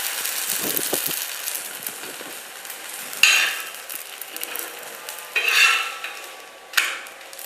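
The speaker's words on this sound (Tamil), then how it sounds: "இந்த பரோட்டாவை பொறுத்த வரைக்கும் சிம்லேயே தாங்க வேகணும் அப்போ தான் நல்லா மொறுமொறுப்பாக வரும்" Layered eggless parotta cooking on a pan over a low flame, a soft continuous sizzle with occasional louder scrapes and flips of a utensil, close up, no talking.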